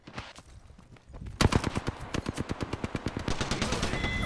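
Rapid automatic gunfire in the Apex Legends battle royale game, a quieter burst giving way to a loud, sustained stream of evenly spaced shots, close and dominant with no talking over it.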